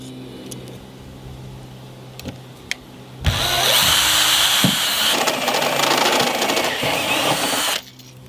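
A step drill bores a hole through a van's sliding door metal for a 12mm deadlock barrel, a loud steady whirring grind that starts abruptly after quiet ambient noise and runs about four and a half seconds before cutting off.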